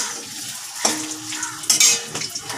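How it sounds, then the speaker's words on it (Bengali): Potatoes frying in a pan for a home-style Bengali dish give a steady close sizzle, broken by a couple of scraping stirs and a sharp clink of a utensil against the pan partway through. "আলুটা একটু ভাজা হলে"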